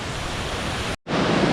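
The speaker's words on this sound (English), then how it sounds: "And here we are at Grey Mare's Waterfall." Grey Mare's Waterfall near Kinlochleven in Glencoe roars with a steady, loud broadband rush of falling water, broken by a brief dropout of silence before the torrent resumes just as strong.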